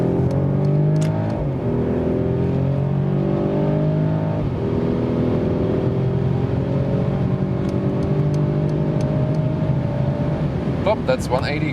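A Mercedes-Benz E450 convertible accelerates hard in sport mode, its engine rising through the revs in repeated climbs, with gearshift dips and steady wind and road noise, and someone talking briefly over it.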